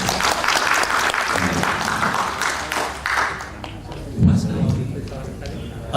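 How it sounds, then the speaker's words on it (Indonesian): Applause at a community meeting, a sustained wash of many hands clapping in a hall, with voices mixed in and a brief louder burst toward the end. "Tepuk tangan."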